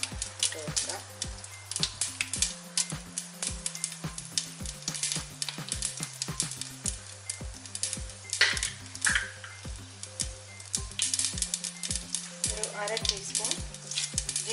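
Mustard seeds, urad dal and dried red chillies frying in coconut oil in a pan, crackling and popping in rapid irregular bursts over a steady sizzle, with music playing beneath.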